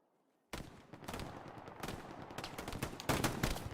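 A gunfire exchange in the Hell Let Loose video game breaks out suddenly after near silence. Dense rapid shots and machine-gun bursts build up to a louder volley near the end.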